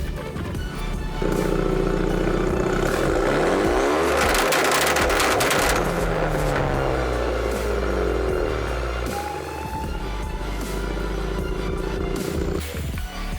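A Hyundai Genesis Coupe running an AlphaX ECU holds against its two-step launch limiter near 5,500 RPM, the engine droning loud and steady with crackling, popping rev bursts and shifting pitch throughout.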